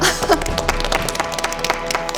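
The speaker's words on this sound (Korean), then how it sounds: "박수 한번 주세요" Studio audience on a Korean TV quiz show applauds a contestant, a brief burst of many hands clapping close and full, thinning slightly toward the end.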